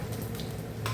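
Onion frying in melted butter in a pan, a steady close sizzle with soft crackle running throughout.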